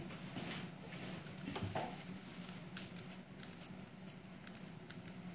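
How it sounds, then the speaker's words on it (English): Scissors snip through a piece of lace in a quiet room, making a few faint, soft clicks and cuts at close range. "Just cut the part of the lace so that I can get this area."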